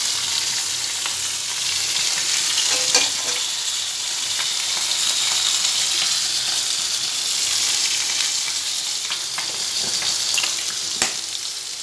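Bitter gourd chorchori, cooked dry and fairly loud, sizzles steadily in a pan for the whole stretch, with scattered scrapes and clicks from stirring and no voices.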